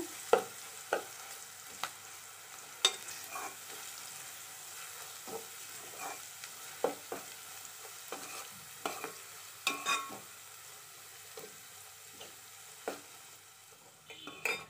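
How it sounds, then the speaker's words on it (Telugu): Turmeric and ginger fry in a pan for a brinjal and potato curry, a steady soft sizzle broken by regular scraping spatula strokes close by. "ఇది కొంచెం పచ్చివాసన పోయేదాకా ఫ్రై చేసుకుందాము."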